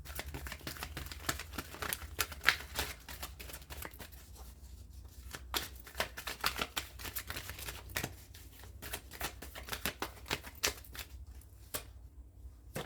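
Oracle and tarot cards are shuffled and pulled from a deck, giving a steady run of soft papery slaps and flicks with sharp snaps at irregular intervals, close and fairly quiet, with no talking.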